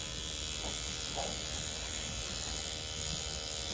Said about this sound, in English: The Mummy C1 still pushing like a champ here.